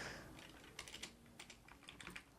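Keys clatter on a computer keyboard during RStudio work, a quick irregular run of close, faint clicks and taps with no talking.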